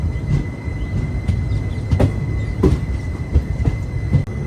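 The Sai Nagar Shirdi to Tirupati Express rolls along on its Guntakal to Tirupati run, a steady rumble of wheels with rhythmic clicks and knocks from the track, close and continuous with no talk.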